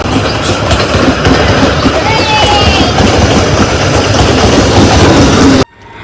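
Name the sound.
train arriving at Kolkata station platform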